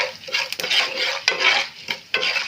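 Dried red chillies fry in oil in a pan for raw mango pachadi, with a close, steady sizzle broken by repeated scraping stirs of a spoon.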